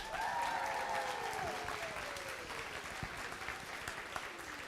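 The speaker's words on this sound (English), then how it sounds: "let's get a round of applause for all of our teams again" Robotics tournament audience applauds the teams, with sustained, dense clapping and a few cheers at the start that settle into steady, slightly softer applause.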